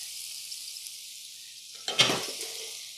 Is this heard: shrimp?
yes